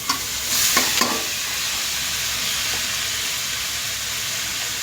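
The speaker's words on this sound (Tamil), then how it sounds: "அதுக்கு அடுத்து அவரைக்காயை அதில் கொட்டிடணும்." Broad beans tumble into a hot pan of golden fried onions, a quick clatter followed by a loud, steady, hissing sizzle that carries on close-up without any voices.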